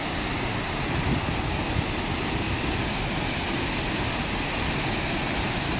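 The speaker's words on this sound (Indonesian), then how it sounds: "ini mendekati ya air terjun atau Curug Cinulang" Curug Cinulang waterfall in Cicalengka near Bandung, a steady, dense roar of falling water that stays loud and unbroken throughout, with no voices.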